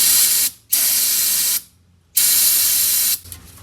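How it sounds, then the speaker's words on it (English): Brake cleaner hisses from an aerosol can into the engine bay of a Pontiac Fiero in three loud, steady bursts, each lasting about a second, with brief silent gaps between them. "Let's see if we squirt a little brake clean in there."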